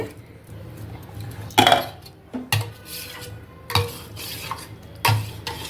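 Green chili and ginger paste being stirred into curd in a bowl for majjiga pulusu, heard as several clinks of a spoon against the bowl and soft scraping, close by, with quiet gaps between strokes.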